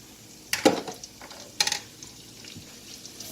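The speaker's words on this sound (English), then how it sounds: "now we're gonna start up on sauteing the garlic to infuse the oil" Garlic sautéing in leftover sausage oil in a pan, with two sharp bursts of stirring and scraping close by and a quieter stretch of low pan noise in between.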